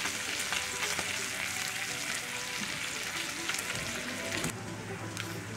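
Thick bacon fries in a cast iron skillet with a dense, continuous crackling sizzle that stays fairly loud and close throughout, scattered with sharper pops and spits.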